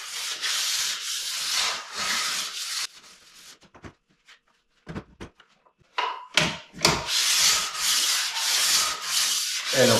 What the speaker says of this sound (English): This is a diamond stone. And we polish the edges. Get all the burrs off the edges.